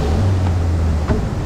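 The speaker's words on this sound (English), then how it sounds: "Here comes some waves." Ocean waves wash around a sailing boat on passage to Misool, a continuous rumbling surge mixed with wind across the microphone, with a couple of brief splashes.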